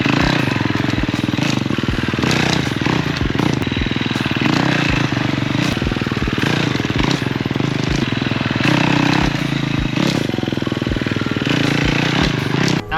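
KTM XC-F dirt bike ridden over log crossings, its engine revving and blipping in sharp bursts with steady loud drone throughout, close and continuous.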